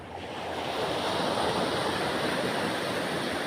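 Rough ocean surf at the beach, a dense continuous wash of breaking waves with some wind rumble, steady and fairly close, no voices.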